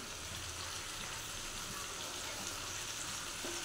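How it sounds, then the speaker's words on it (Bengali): Vegetables and spices with turmeric and salt frying in oil for a Bengali chicken curry with black pepper and papaya, a steady close sizzle with fine crackling throughout. "ভালো করে মশলাটা কষবো, যতক্ষণ পর্যন্ত মশলা থেকে তেল না বার হচ্ছে"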